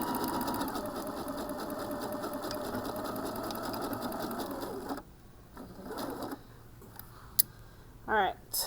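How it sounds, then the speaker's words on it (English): A sewing machine stitches fabric for a scrunchie in a steady, fast, continuous run for about five seconds. It then stops, leaving quieter handling noises and a few short clicks as the seam is backstitched. "we're going to stop sewing and backstitch this side"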